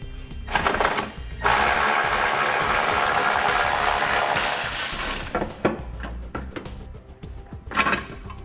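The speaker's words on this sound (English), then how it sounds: "We'll grab an 18mm socket, and we'll pull those out." An impact or ratchet driver with an 18mm socket removes trailer hitch frame bolts on a 2017 Nissan Rogue, giving a loud sustained whirring burst for several seconds, then shorter rattling bursts and clicks close by.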